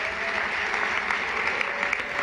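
A large audience at a formal charity roast dinner applauds with a dense, steady wash of clapping that holds at an even loudness throughout.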